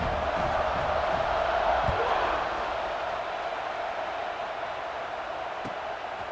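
A packed football stadium crowd at an Iowa versus Minnesota college game roars as the kickoff nears, a loud sustained wash of cheering that eases slightly partway through, with a commentator talking over it.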